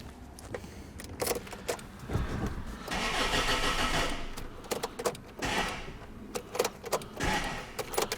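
Land Rover Freelander engine cranking and turning over, preceded by clicks and key rattles, a few seconds of strained grinding, then more clicks and knocks, with no running engine note.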